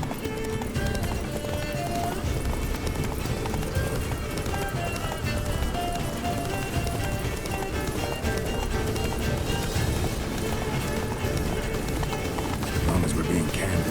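Geralt's horse Roach galloping in The Witcher 3 Blood and Wine, a steady rhythmic clip-clop of hooves running at pace throughout, close and continuous, with voices talking over it.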